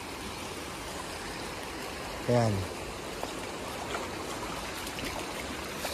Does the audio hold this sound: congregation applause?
no